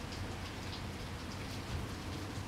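Rain falls steadily on a dark night in Everhood, a dense, even hiss of drops with faint low rumbles underneath and no voices.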